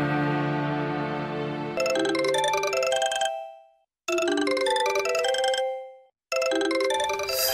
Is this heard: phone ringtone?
yes